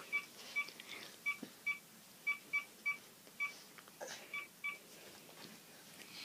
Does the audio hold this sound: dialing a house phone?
yes